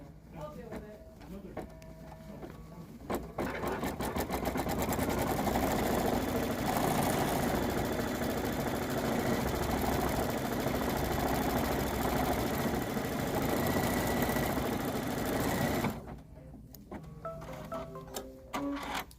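An embroidery machine tacks green fabric to stabilizer in a hoop for a shamrock coaster, a steady loud rapid mechanical stitching whir running for about eleven seconds, with quieter clicks and handling before and after.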